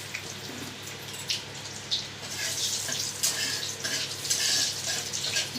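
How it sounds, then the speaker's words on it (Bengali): Cumin, cinnamon, cloves, dried red chillies and bay leaf sizzle in hot oil for a Bengali hilsa-head and taro-greens dish, a steady bright crackle with occasional stirring bursts and no talk. "সামান্য জিরে ফোড়ন দিয়ে দিলাম"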